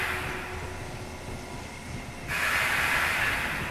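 Steam hissing in the sci-fi shooter Aliens Fireteam Elite, a steady broadband hiss over a low industrial rumble that grows louder and brighter partway through, with no talk.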